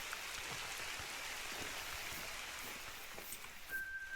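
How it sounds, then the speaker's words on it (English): Rain begins falling in a hunting video game, a soft steady hiss of drops spread evenly and faintly, with no voices and a thin tone entering near the end. "it's starting to rain"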